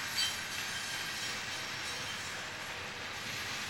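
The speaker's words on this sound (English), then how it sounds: "And it looks like this train is not stopping." A freight train rolls steadily past a railroad museum without stopping, giving a continuous broadband rumble and rail hiss at an even level throughout.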